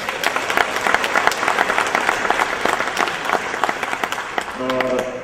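An audience at a Juneteenth father-awards presentation gives a loud, sustained round of applause, many hands clapping continuously, with a brief tonal sound near the end.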